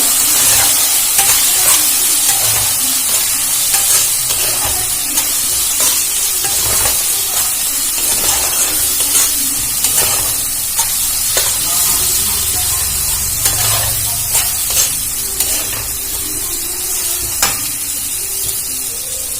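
Chicken masala sautés with red chili powder in a village kitchen pan, a loud, constant sizzle broken by repeated scraping stirs throughout.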